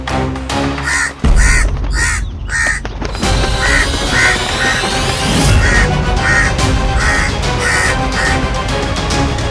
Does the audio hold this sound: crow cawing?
yes